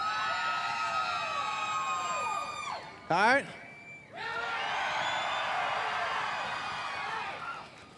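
Loud crowd at a Bassmaster Elite fishing tournament weigh-in on the Sabine River, Texas, yelling and cheering in sustained waves broken by a short electronic whoop, with a voice speaking briefly over it.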